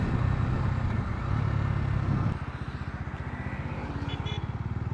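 A Bajaj Dominar 250 motorcycle being ridden, its engine note a steady low rumble with dense wind and road noise, shifting after a couple of seconds into a pulsing, throbbing exhaust beat, close and fairly loud.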